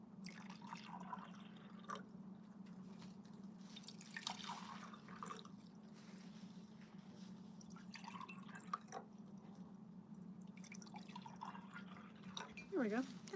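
Fresh water poured from a container into a vase of pussy willows, a soft intermittent drip and trickle indoors over a steady low hum, with a person talking nearby.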